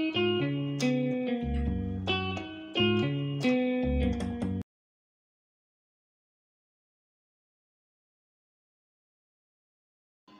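An ariaria praise rhythm is played with both hands on a keyboard, with bass notes and chords repeating in a bouncy pattern for about four and a half seconds. The playing is clear and close, then stops abruptly, followed by silence.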